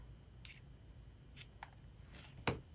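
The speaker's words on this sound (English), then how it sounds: "I do have to cut a straight edge" Scissors snip washi tape to cut a straight edge, a few faint, brief crisp cuts over quiet room hiss.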